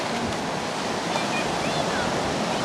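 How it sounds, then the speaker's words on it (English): Ocean surf rolls in at a beach as a steady, broad wash of breaking waves, fairly close and continuous, with some wind buffeting the microphone and no clear speech over it. "We're here at the ocean."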